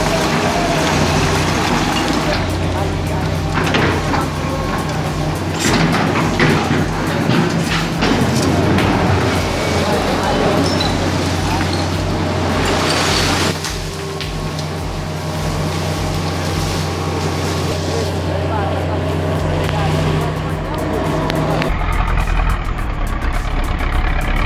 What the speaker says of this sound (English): This TDT 55 crawler tractor chews through mud and bog like it's built for it